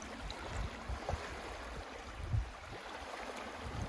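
Lake waves lapping and slapping against a canoe on open water, Yellowstone Lake, irregular soft splashes with a couple of louder knocks near the hull over steady wind and water wash.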